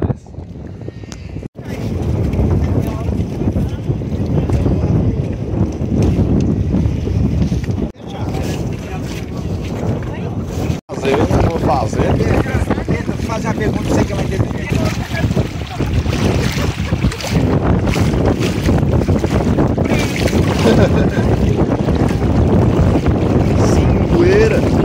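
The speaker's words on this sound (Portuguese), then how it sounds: "o jeito é atravessando. É atravessar no barquinho" Small boat crossing shallow water from the beach at Cabo Frio to Ilha do Japonês, an island just offshore; a steady low watery rumble with strong wind buffeting the microphone runs throughout, with brief dropouts and people talking underneath.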